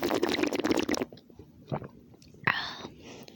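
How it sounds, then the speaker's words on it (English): Close, wet chewing and gnawing on a person's arm, with soft mouth squelches amid hushed, whispery talk. "Ew, why are you chewing on my arm?"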